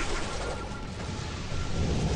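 A lightning strike in the tower-defence game Tower Conquest gives a steady, dense roaring crackle like thunder and heavy rain that holds at an even loudness for about two seconds.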